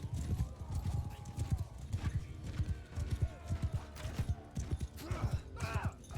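Horse hooves gallop in a fast clip-clop with whinnying during a Mount and Blade 2 Bannerlord battle; the hoofbeats are loud and continuous, mixed with other battle noise and faint voices.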